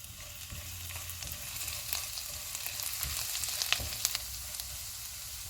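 Steady sizzling of chillies, ginger and garlic frying in hot butter over medium-high heat, with occasional stirring clinks and crackles throughout.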